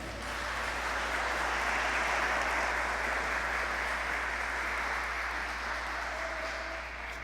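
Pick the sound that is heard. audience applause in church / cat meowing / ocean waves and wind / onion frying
audience applause in church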